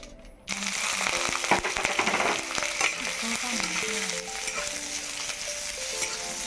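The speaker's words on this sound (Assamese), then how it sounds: "মাছকেইডোখৰ ফ্ৰাই কৰি ল'লোঁ" Fish pieces dropped into a little hot oil in a home kitchen, giving a sudden loud sizzle that holds steady and crackles close by, with faint clinks of a utensil and no talking.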